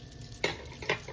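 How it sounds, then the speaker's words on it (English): Sweet potato yeast donuts frying in hot oil, with a soft continuous sizzle broken by two sharp splashy bursts as dough is turned or moved in the pan. "But I'm frying them on about a minute"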